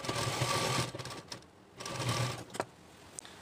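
A sewing machine stitches a bolster pillow cover in two brief runs of rapid mechanical clatter with a short pause between them, close and clear.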